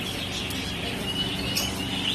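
Birds call inside an aviary, with faint scattered chirps and a thin whistle near the end set in a busy, continuous background hum of the enclosure.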